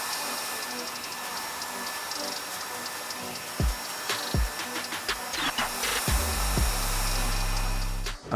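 Hair dryer blowing during a wrap dry, combing the hair around the head for a floating bob cut, a steady close airflow hiss with intermittent clicks and comb or handling knocks near the end.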